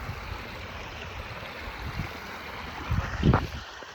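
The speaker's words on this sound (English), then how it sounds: "the water flowing." Water flows at the back dam in Plaisance, Guyana, a steady outdoor rush that stays moderate throughout, with a couple of louder splashy surges near the end and no one speaking.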